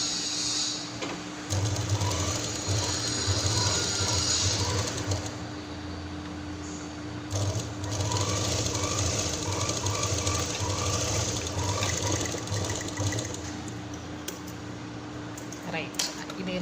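Folded lining cloth for a handmade purse runs under a home sewing machine in two long, steady bursts of close whirring stitching, split by a short pause, with a constant low hum throughout.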